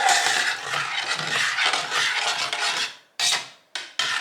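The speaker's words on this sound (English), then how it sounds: "Let's stir it around a bit." A spoon scraping and rubbing around inside a pot of tomato Bolognese sauce with a steady, raspy texture, then a few short separate scrapes near the end.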